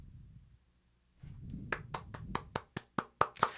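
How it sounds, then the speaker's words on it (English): Faint low rumble gives way to a handful of sharp, separate claps, about nine distinct hits spaced unevenly and growing louder, sounding like a small sparse patch of applause rather than a full crowd. "I don't know if you can hear that, but that's applause"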